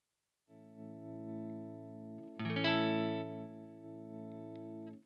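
A Jaguar or Jazzmaster electric guitar holds a sustained chord through effects while its volume roller is worked, so the ringing tone stays steady and then swells louder partway through, with no talking.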